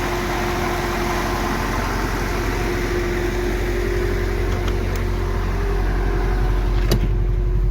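A cold 1974 Triumph Dolomite Sprint engine running at a steady idle, heard up close as a continuous low rumble with no revving and no voices, with a couple of faint clicks near the end.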